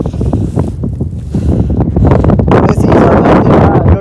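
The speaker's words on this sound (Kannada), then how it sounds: "ಈ ಜಾಗದಿಂದ ಮುಂದೆ ಹೋಗೋಕೆ ಗಾಳಿ ವಿಂಡ್ ಪ್ರೆಷರ್ ಸಿಕ್ಕಾಪಟ್ಟೆ ಇದೆ" Strong wind on a hilltop during a trek buffets the microphone in a loud, continuous low roar that swells and gusts throughout.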